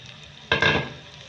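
Masala and mashed meat pieces dropped into a hot pan, giving a sudden close sizzle with a stirring scrape that fades over about half a second.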